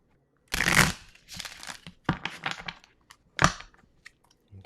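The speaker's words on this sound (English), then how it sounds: "I'm just going to pull one card after a quick shuffle" A deck of playing cards shuffled quickly by hand, giving several close, crisp riffling bursts separated by short pauses, with no talking.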